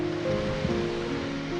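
Waves washing onto a beach of crushed seashells at Acadia National Park, Maine: a steady, continuous wash of surf with a faint low hum beneath, no voices.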